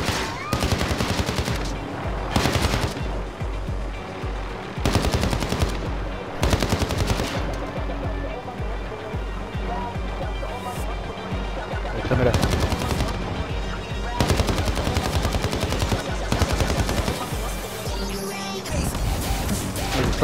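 Repeated bursts of automatic gunfire and single shots in Call of Duty: Modern Warfare, loud and dense across the whole stretch, with short gaps between volleys and players talking over the action.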